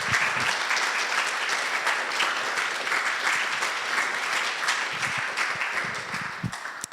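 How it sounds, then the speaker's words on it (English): An audience at a book presentation applauds the authors and contributors, a sustained, even patter of many hands clapping, with a few louder nearby claps near the end and no speech. "So a big applause for all of you."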